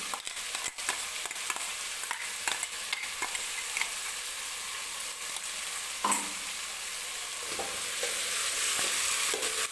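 Vegetables tossed with ginger-garlic paste in a pan for veg pulao, a steady soft sizzle with scattered scraping clicks of the spoon, close and continuous, no voices.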